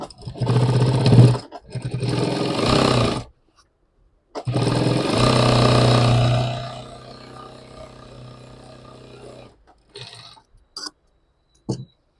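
A sewing machine stitches along the folded quarter-inch edge of a bag made from a pant pocket, in two long loud whirring runs separated by pauses, with a few short bursts and clicks near the end.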